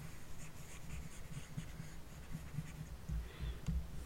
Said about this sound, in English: I might need this space, so I'm going to go ahead and erase this.